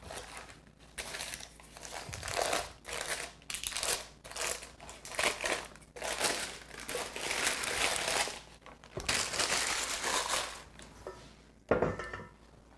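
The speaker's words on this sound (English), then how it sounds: "Peel away that parchment." Parchment paper peeled away from a pan of hot chocolate Nanaimo bars: a run of close, crisp crinkling and crunching bursts, alone with no talk.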